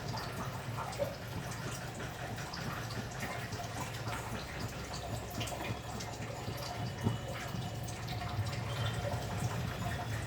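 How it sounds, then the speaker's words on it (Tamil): Cooking oil pours into a hot kadai while a tapioca snack is being made, a faint, steady liquid hiss running without a break throughout. "தேவையான அளவுக்கு எண்ணெய் ஊற்றிக்கலாம்"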